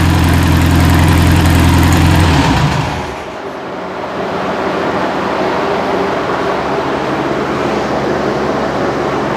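A 40HP VW engine in a rat rod truck runs with a loud, steady, rumbling idle, then the note drops abruptly as it settles into a quieter, rougher running hum for the rest of the clip.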